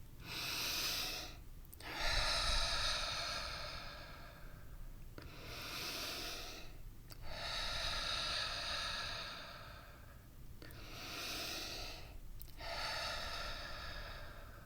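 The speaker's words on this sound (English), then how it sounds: "Take 3 deep breaths." Three long, deep breaths, each a slow airy inhale and exhale with short silent gaps between them, close and clear, with no speech.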